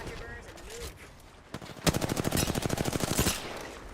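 Rapid automatic gunfire in Apex Legends aimed at prowlers, a dense burst of about twenty sharp shots in quick succession after a few scattered earlier shots, loud and close, with faint voices beneath.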